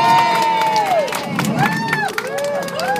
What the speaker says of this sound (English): let's give a round of applause to Captain Joe.